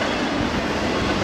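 A Union Pacific stack train rolls past along Interstate 84 and the Columbia River near Biggs, Oregon, a loud, steady rumble of wheels and cars that fills the whole moment without a break.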